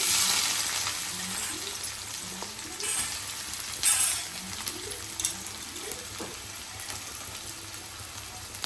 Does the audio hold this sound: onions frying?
yes